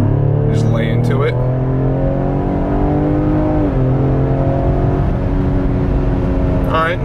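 Ford Explorer ST EcoBoost launching hard from a dead stop, its engine note climbing steadily and loud under load with a brief shift dip midway, heard from inside the cabin with a voice briefly at the start and end.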